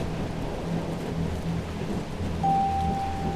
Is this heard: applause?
no